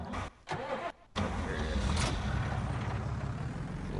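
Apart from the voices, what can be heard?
flatbed truck engine driving in a video game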